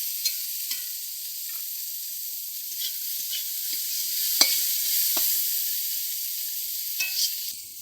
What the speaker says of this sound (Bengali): মোচা ভাজা হয়ে গেছে